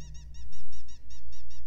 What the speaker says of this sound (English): get rid of this squeaking duck toy sound on your Samsung phone keypad